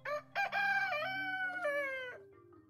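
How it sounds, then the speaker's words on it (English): A rooster crows loudly and close by, one long drawn-out cock-a-doodle-doo with a sharp start and a falling tail. "Roosters love to crow."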